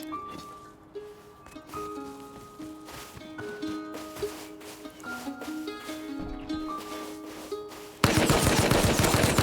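Rapid automatic fire from a Tommy gun in the survival game Rust, sounding as repeated bursts under layered game ambience, then a sudden loud, dense blast of noise at the end.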